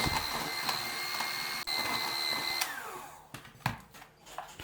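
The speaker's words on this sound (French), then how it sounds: "On met le lait et on continue de mixer pendant 2 minutes." An electric blender mixing cake batter with milk for a raspberry yule log, a steady high motor whine running close and loud that cuts off partway, followed by a few clunks and quieter handling.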